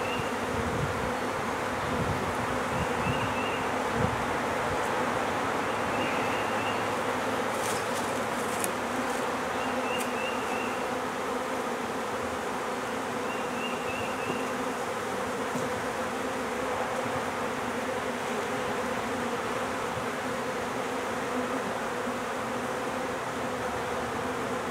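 Honey bees buzz steadily around comb frames in an opened hive, a dense continuous insect drone filling the whole stretch with no talking.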